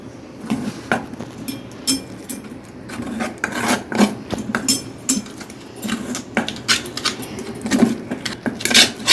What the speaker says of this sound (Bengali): এইবার আমি সামান্য সামান্য জল দিয়ে এটাকে আমি এগিয়ে গুলতে থাকবো